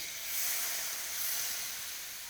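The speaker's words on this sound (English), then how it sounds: "And now reduce the pan with a little bit of wine." Wine splashed into a hot pan of cooking mushrooms sets off a steady, bright hiss of sizzling and steam that swells briefly and then settles, close and continuous.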